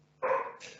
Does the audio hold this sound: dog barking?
yes